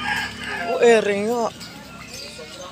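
A rooster crows once, a rising and falling call of about a second, amid chickens at a poultry market in Malolos. Close talk runs over and around it.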